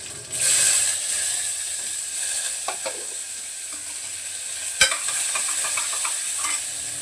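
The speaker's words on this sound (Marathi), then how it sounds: "टमाटा परतून घेते आता" Tomato and onion sauté in oil with mustard seeds, cumin and garlic, a bright steady sizzle near the mic with clicking stirs and one sharp knock of the spoon on the pan.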